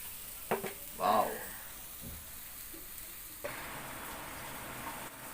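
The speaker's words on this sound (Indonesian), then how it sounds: "Sudah mateng yang satu, tinggal satu lagi nih, lagi digoreng sebentar." Fish frying in a pan for an Indonesian grilled fish dish: a steady, close hiss of sizzling oil that carries on throughout, with a few brief clatters near the start.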